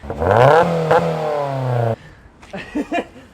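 A loud, raspy engine of a first-generation Honda CR-V (RD1) with the muffler removed revs up sharply and drops off, unmuffled and close, followed by a rough burbling idle.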